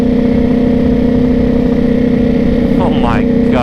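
A Ducati Panigale V4 motorcycle engine runs loud and close on a dyno with a steady mechanical rattle in its drone, and a voice briefly speaks near the end.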